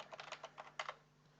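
Light, quick taps on a computer keyboard while entering numbers into a Microsoft Excel sheet, a short faint cluster of about a dozen keystrokes over a low steady hum.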